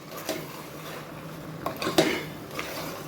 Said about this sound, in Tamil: இப்போது போட்டுட்டு நல்லா கிளறி விட்டுடணும்.